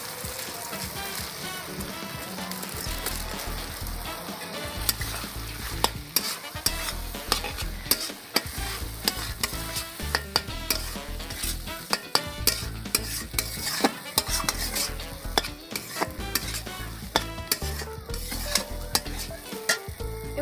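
Sago is stirred into sizzling fried spices in a pan, a spoon scraping in a steady rhythm over continuous frying hiss, close and fairly loud throughout.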